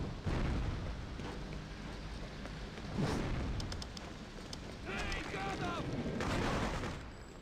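Bomb blasts and gunfire in the Freedom Fighters video game, several heavy booming bursts spread over a few seconds with rumbling decay, loud and close, while a player talks over the action.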